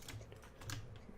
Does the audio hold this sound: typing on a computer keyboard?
yes